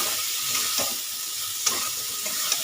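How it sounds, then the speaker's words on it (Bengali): Spice masala and potatoes sautéing in a pan for a pumpkin chhokka, giving a steady close sizzle with a few soft scraping ticks from stirring. "ওই মশলাটা দিয়ে এবারে একটু টাইম নিয়ে চাপা দিয়ে দিয়ে কিন্তু কষাতে হবে।"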